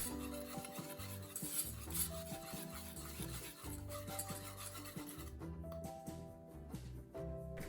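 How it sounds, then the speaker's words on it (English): A spoon rasping and scraping in a small dish as toothpaste and dish soap are mixed into a cleaner, steady close rubbing strokes over soft background music. "I mix everything a little."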